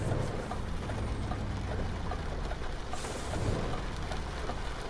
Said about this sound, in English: this rain has been relentless today